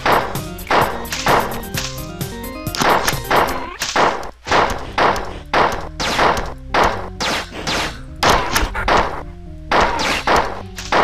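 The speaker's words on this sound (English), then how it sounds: "we are just gonna lay into this corridor with the pistol" Rapid pistol fire in the video game Marathon, emptied into a corridor: a dense string of loud, punchy shots with quick irregular rhythm, mixed with thuds and impact crashes and a short pause midway.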